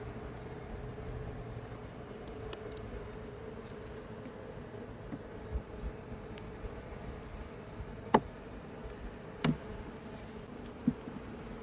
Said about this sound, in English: lots of frantic bees.